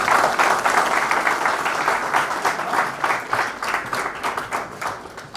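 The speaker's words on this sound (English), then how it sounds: "I just want you all to welcome them with a big round of applause." A room of people claps to welcome guests at a hotel-hosted event, dense steady applause throughout that gradually tapers, with faint murmuring underneath.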